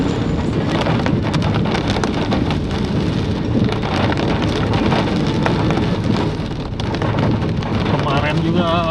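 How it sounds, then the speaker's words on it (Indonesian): Heavy rain with strong wind at night pours down steadily and loudly at a roadside petrol station in Indonesia, a dense continuous roar with gusty rumble throughout, while people talk underneath. "Jadi hujan angin, makanya tadi kita tuh menepi dulu di pom bensin."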